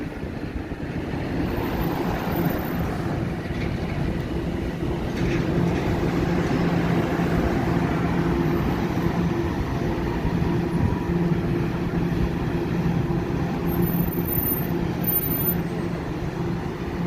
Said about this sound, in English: Oh, and here's a train.